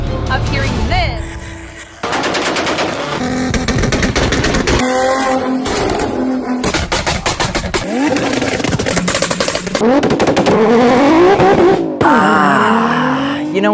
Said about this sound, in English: Modified exhaust systems serve no purpose other than to create fear, chaos, and intimidation.